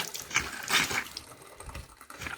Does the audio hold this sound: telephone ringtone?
no